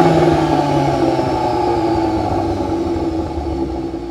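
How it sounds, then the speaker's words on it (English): VW Golf R engine with a titanium Akrapovic exhaust, a loud steady drone with held tones that eases slightly toward the end, no talking. "Titanium Akrapovic exhaust."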